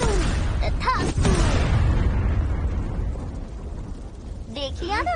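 A loud magical explosion effect bursts out with a booming rumble that fades over a few seconds, set amid short tonal chimes in an animated Hindi cartoon.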